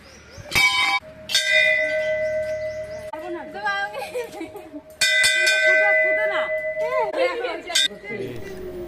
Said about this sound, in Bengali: ঘন্টি বাজাও